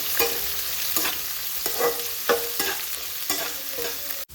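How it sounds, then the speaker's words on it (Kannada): Onions frying in hot oil in a pan for mango rice, a steady close sizzle broken by regular scraping stirs of a spoon every half second or so, no talking. "ಚೆನ್ನಾಗಿ ಫ್ರೈ ಮಾಡ್ಕೊಳ್ಳೋಣ"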